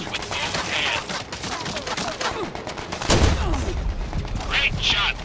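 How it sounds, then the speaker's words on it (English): A Panzerfaust fires at a scout tank in the Medal of Honor: Above and Beyond video game, a sharp blast around midway with dense gunfire and battle noise throughout, close and loud. "shoot the scout tank with a Panzerfaust"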